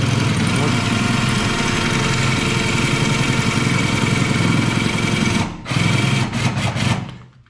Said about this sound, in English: I started the little drill right there